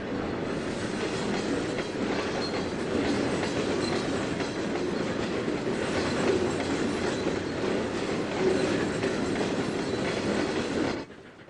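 A train in Trainz 2022 rolls past very close for about eleven seconds, a steady loud rumble of wheels with rhythmic clickety-clack over the rail joints, then cuts off abruptly.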